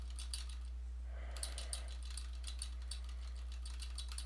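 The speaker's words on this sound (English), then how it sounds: "I'm just going to just be typing this out in silent mode right now" Computer keyboard typing at close range, rapid irregular key clicks in bursts with a brief pause near the first second, quiet against a steady low hum, no speech.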